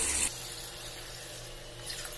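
Water pours into a cooking pot of mutton kuzhambu, a Tamil meat curry. A short loud gush at the start gives way to a quieter, steady trickle and splash, with no voices.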